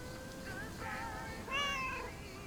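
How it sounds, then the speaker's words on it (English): Cat in the video game Lake meowing in a few soft, rising and falling cries, the last one longer and louder, heard close over a faint steady background hum. "Here, little kitty, come on."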